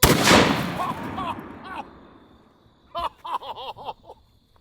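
One loud rifle shot at point blank into a giant Furby, fired from a kneeling position, cracks sharply and fades out. A few seconds later someone talks.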